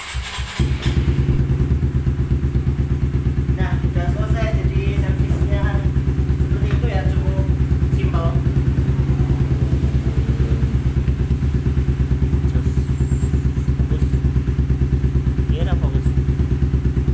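A Honda CB150R motorcycle engine catches after a quick start attempt and settles into a steady, close idle after a home service, while someone talks over the running engine.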